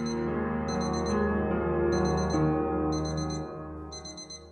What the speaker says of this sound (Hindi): प्लीज अलार्म बंद कर दो।